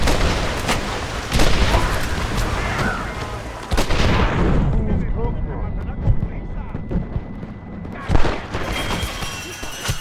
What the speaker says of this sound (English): Watch the top of that cliff! They're shooting down on us!